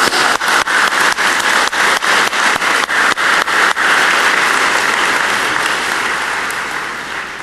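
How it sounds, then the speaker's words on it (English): A conference plenary audience breaks into steady applause, loud and dense with rhythmic unison clapping at first, then settling into a broad wash that slowly fades, with no talking. "So I think that's actually worth a clap."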